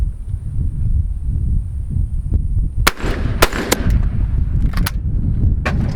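Shotgun blasts ring out on a sporting clays quail course, a few sharp close reports spaced unevenly across a few seconds over low rumbling wind noise, with no talking.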